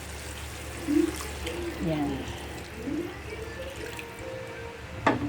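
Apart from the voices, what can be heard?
water being poured into a pot of fish escabeche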